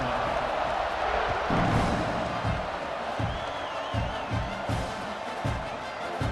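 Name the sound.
stadium crowd cheering at South Carolina football kickoff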